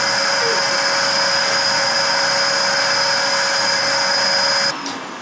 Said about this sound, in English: Now let's vacuum. I have this vacuum with this little nozzle,